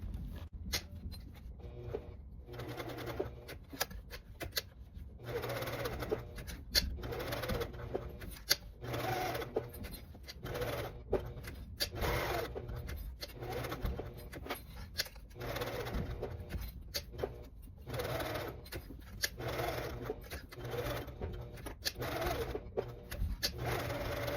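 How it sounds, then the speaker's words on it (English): A sewing machine stitches fabric in a box pattern, running in repeated short bursts with pauses between them, a steady mechanical whirr close by, no speech. "we are gonna sew this in a box shape"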